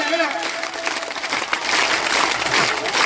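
An audience claps along with devotional singing at a Meldi Mataji navrang celebration, with steady, dense clapping blending with a sung melody throughout.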